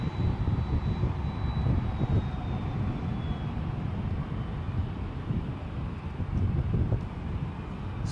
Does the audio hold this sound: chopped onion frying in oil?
no